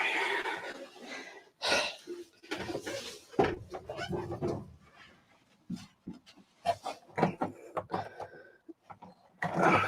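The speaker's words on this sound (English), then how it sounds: "why is this stream just full of somebody heavy breathing" Heavy breathing close to the microphone on a model railway livestream, a run of uneven breaths and rustles with short pauses between them.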